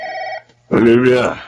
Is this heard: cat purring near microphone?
no